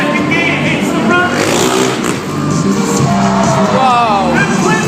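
A Honda 450 motorbike engine revs hard up to its limiter at a monster truck show in a stadium, loud and continuous with rising and falling pitch, over crowd noise and a commentator's voice.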